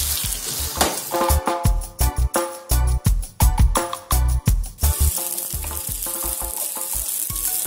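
Rice flour is stirred continuously in a hot pan for a village-style sweet, giving loud, close scraping and sizzling strokes in an uneven rhythm that settle into a steady frying hiss.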